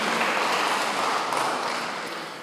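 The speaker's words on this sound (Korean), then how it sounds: "우리 박수 한번 쳐드리도록 하겠습니다" Church congregation at a Sunday sermon gives a short burst of steady, dense clapping that fades slightly toward the end, with no voices over it.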